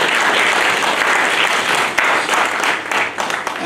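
A church congregation applauding during a Sunday morning service: dense, continuous clapping from many hands throughout, loud and steady, with a few sharper peaks near the end.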